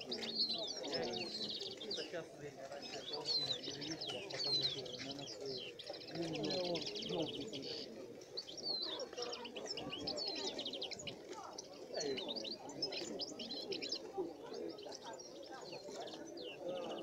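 Many birds, including budgerigars and canaries, chirp and coo together at an indoor bird show, steady and moderately faint, with a murmur of people talking underneath.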